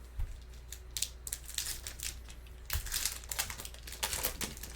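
A Lorcana booster pack's foil wrapper is ripped and crinkled close up, with continuous crackling and rustling bursts at a fairly quiet level and no speech.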